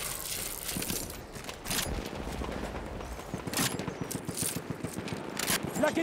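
Rapid LMG bursts in the Battlefield video game, dense sustained strings of close gunshots interleaved with metallic clinks and rattles of spent casings and mechanical clatter, loud and continuous throughout.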